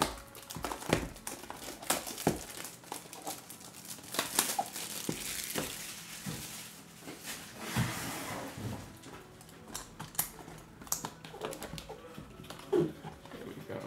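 Topps Museum Collection baseball card pack wrappers are torn open with close crinkling, tearing and crackling of foil, in irregular bursts over about fourteen seconds.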